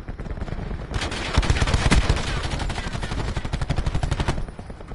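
Video game gunfire, a steady stream of rapid automatic shots rattling close and loud for several seconds before cutting off.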